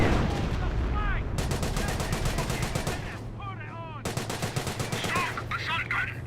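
A StuG assault gun fires in Company of Heroes, with rapid bursts of loud, close gunfire repeating in two long volleys over a constant battlefield din and low engine rumble.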